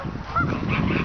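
Geese honking loudly at Woodward Park, a few close calls rising over a busy outdoor background with no talk.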